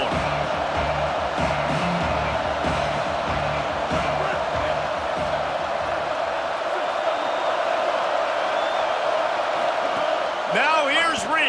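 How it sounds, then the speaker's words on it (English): Stadium crowd in a college football video game, a continuous loud roar of cheering that holds steady throughout, with a brief bounce or thud near the end. "This crowd ready to make its presence known."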